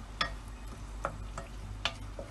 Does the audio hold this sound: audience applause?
no